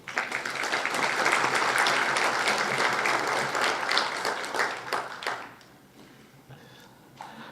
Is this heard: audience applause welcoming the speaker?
yes